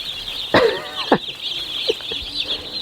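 Chicks brooding in an outdoor portable coop give a few scattered clucks and peeps against a steady high background chatter from the flock.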